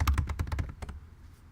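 Password being typed on a computer keyboard, a quick run of close, crisp key taps that slows to a couple of final strokes and then stops.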